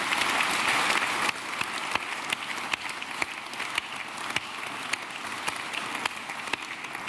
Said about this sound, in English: Can we have a round of applause, please, for the 3 other very worthy contestants?